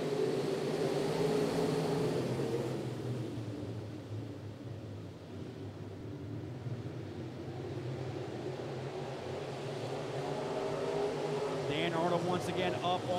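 Modified race cars roar through turns three and four of a speedway as the green flag drops, a dense engine drone that holds steady throughout, overlaid by an announcer's continuous commentary.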